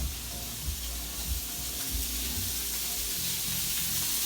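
Garlic sears in a hot pan beside a ribeye steak, giving a steady, close, continuous sizzle and hiss with no talking.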